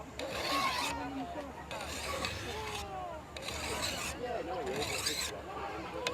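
A file stroking along the edge of a chainsaw guide bar to put a slight chamfer on it, giving several short rasping passes in bursts with pauses between, close and moderately loud.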